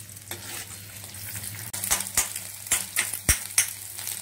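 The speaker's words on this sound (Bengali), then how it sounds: "আমার ডিমটা ভাজা হয়ে গেছে" Egg frying in hot oil in a wok, cooked first for a chow mein noodle dish: a steady close sizzle with spatula stirring and several sharp metallic scrapes and clatters against the pan.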